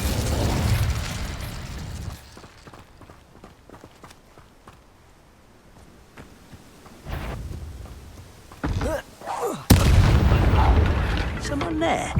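The Incendio fire spell from the video game Hogwarts Legacy goes off in bursts of whooshing, booming blasts, separated by quieter stretches with footstep-like taps and mechanical clatter.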